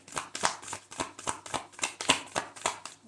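Oracle cards are shuffled with a quick, even series of about a dozen crisp riffling flicks, close and soft, with no voices.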